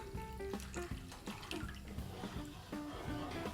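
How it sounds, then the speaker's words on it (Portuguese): Water poured from a cup into a cooking pot holding chicken broth and margarine, a continuous splashing pour with gurgling and a few drips, close and alone. "Agora eu vou acrescentar 3 xícaras de chá de água."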